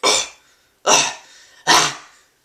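A human voice imitates a dog bark as a growl technique, giving three short, harsh, breathy bursts spaced evenly apart, each sharp at the start and tailing off, close and alone.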